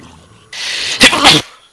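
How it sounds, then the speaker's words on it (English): A person sneezes once, close and loud, a sharp breathy burst after a brief inhale, with near silence around it. "good, good sneeze"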